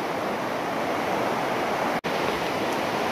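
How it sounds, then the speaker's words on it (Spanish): A flooded, swollen river rushes in a loud, steady roar of broadband water noise, constant throughout with only a brief momentary dropout. "realmente este río está de locos. Esta creciente está completamente enorme."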